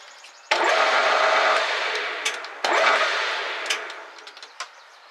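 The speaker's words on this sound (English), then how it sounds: "So we're going to use our arbor to do the polishing with." A polishing arbor spinning up to polish an airgun muzzle brake for a Crosman 2240, whirring in two sharp-starting runs with brief knocks and scrapes as the metal is worked, close and moderately loud.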